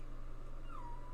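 A dog gives a single brief, high whimper near the end, faint against a steady low hum in a quiet indoor room.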